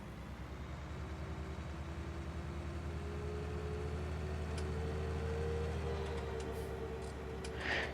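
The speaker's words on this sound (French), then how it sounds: "J'aime ce tracteur, il a un bruit trop satisfaisant." Tractor engine in a farming simulation game drones steadily and close, a low continuous hum with a slowly rising tone, no speech over it.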